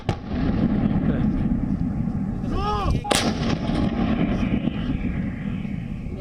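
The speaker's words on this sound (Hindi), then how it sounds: "भारतीय सेना के तोपखाने की 130 मिलीमीटर की मीडियम गन को जंग के माहौल में परखा जा रहा है।" An Indian Army 130 mm medium artillery gun fires during an exercise in the Thar desert. A single loud, sharp blast sits over continuous heavy rumbling and wind noise.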